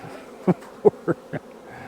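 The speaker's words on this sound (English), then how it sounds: "Now, some of those bees are trying to sting me." Bees buzz around an opened hive box, several short close passes sweeping by the listener in quick succession over a faint background hum.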